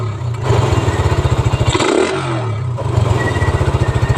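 A Suzuki Raider 150 motorcycle fitted with a 28mm round carburetor revs at high RPM, its engine loud and close with a rapid pulsing beat. The revs briefly dip and climb back, with no talking over it.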